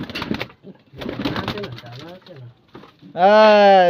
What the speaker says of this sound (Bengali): ওটা পায়রা ধরা যাচ্ছে? হ্যাঁ, এত ছটফট করছে